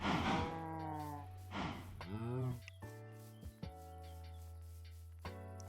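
Cows in the game Minecraft let out several drawn-out moos, close and clear, with a low steady hum and a few short clicks between the calls.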